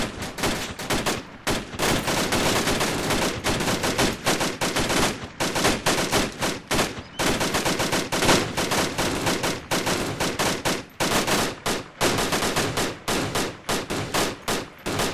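A squad fires rifles in the military video game ArmA 2 Operation Arrowhead. Dense, overlapping gunshots crack in rapid volleys and bursts for the whole stretch, with only brief gaps between them.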